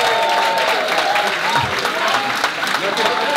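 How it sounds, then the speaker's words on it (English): Audience applause fills an event hall, a sustained, loud wash of clapping with voices chattering underneath it. "A round of applause, please."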